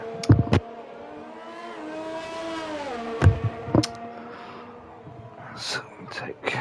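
Race cars in a racing video game roar and rev around a wet Yas Marina circuit, engine pitch rising and falling steadily, with sharp clicks and someone talking over the engine noise.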